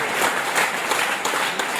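An audience at a Phatak High School youth festival in Ratnagiri applauds loudly, dense sustained clapping that fills the whole moment with no speech.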